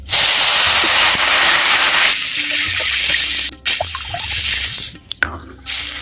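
Water poured into a hot pan of roasted moong dal for coriander pongal sets off a loud, steady hiss and sizzle with scattered drips and spatter that gradually settles and breaks up near the end.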